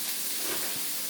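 White onion and peppers sizzling in a hot pan, a steady close hiss with no breaks throughout.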